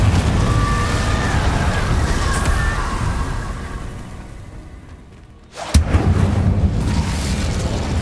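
Incendio fire spell cast in Hogwarts Legacy: a loud, sudden whooshing burst that cuts in after a fading rumbling background, then settles into a steady roar.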